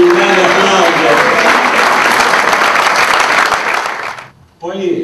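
Audience applause at an event evening, a loud, dense, steady clapping crowd that fades out near the end before a voice starts speaking.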